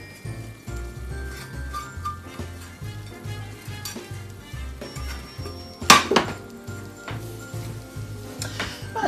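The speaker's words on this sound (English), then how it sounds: "Give that a little bit of a stir." A spoon works through green bean casserole in a pan, with repeated scraping strokes, light clinks of utensil on cookware and a faint sizzle, plus one sharper clatter partway through and no talking.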